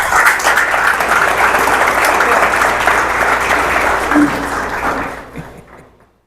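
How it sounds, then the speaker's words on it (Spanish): Loud, full applause from a church audience during a sermon, a thick, continuous roar of clapping that holds steady before tapering off into silence at the end. "Un aplauso a él."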